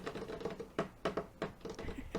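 Rapid tapping on a computer keyboard, a burst of irregular clicks and clacks coming close together at a steady pace, fairly near and with no voices over it.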